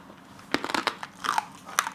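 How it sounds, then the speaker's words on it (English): Crispy oven-roasted pork lechon skin crackles and crunches as people bite and chew it up close, in a quick run of sharp, brittle snaps with a few louder bites. "Everybody's munching on crispy skin."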